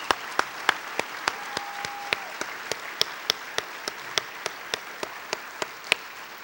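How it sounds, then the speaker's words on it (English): A Huntsville Madison County Athletic Hall of Fame banquet audience applauds the 2013 inductees; sparse, individual claps land in a steady rhythm over a quiet room, distinct and fairly close. "Let's give them one more big round of applause."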